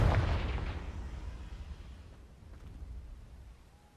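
A Confringo blasting-spell explosion from Hogwarts Legacy hits with a loud, close boom at the start, then rumbles and fades away over several seconds.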